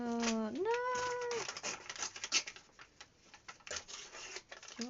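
A house cat lets out a clear, drawn-out meow close up, followed by scattered light clicks and taps in a quiet indoor room.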